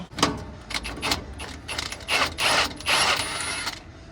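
A ratchet spins off 15 mm bolts holding the AC compressor on a C5 Corvette, producing a steady run of close clicking strokes with slight creaks, moderately loud and free of speech.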